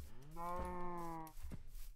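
A cow moos once in the Minecraft video game, a clear, steady call of about three-quarters of a second, loud and close, with a faint thump and background noise after it.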